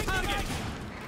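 Gunfire from a Rainbow Six Extraction match, a dense continuous barrage of shots with no clear gaps, filling the short moment at steady, moderately loud level.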